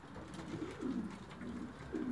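Soft, low pigeon cooing repeats a few times, faint against a hushed background hiss.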